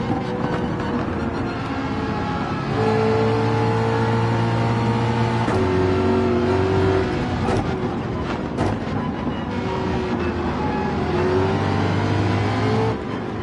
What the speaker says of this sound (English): someone's driving Tom's 458 and passing us.